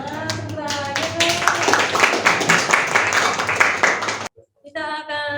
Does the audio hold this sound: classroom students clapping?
yes